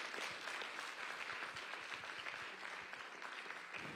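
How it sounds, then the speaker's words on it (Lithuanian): Audience applause fills an awards gala for the Klaipėda Woman of the Year 2023 celebration, a dense, steady clatter of many hands that holds evenly for about four seconds. "O dabar visi aplodismentais palydėkime, ponė Indrė."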